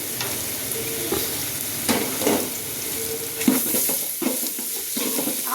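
Whole cinnamon, cardamom, cloves and bay leaves frying in oil in a large cooking pot, a steady sizzle with occasional stirring scrapes and clinks of a spoon against the metal pot, close and moderately loud.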